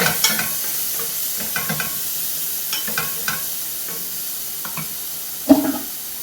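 Chopped tomato sautéed in a pan for a homemade chicken curry, a steady soft sizzle broken by repeated scraping stirs and one louder clack near the end, close by with no talk.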